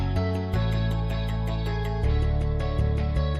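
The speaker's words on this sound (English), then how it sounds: "just a classic fingered bass guitar. It sounds like this." A fingered electric bass plays a short, steady line of plucked low notes in a regular rhythm, clear and alone without any voices.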